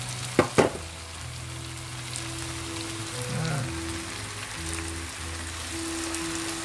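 Tempeh fries in hot oil in a pan for sambal goreng pete, a dense steady sizzle and crackle throughout, opening with a couple of sharp clatters and a faint low hum underneath.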